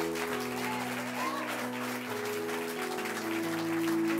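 A church congregation cheers and applauds, a broad wash of clapping and voices sustained throughout under a steady background of music.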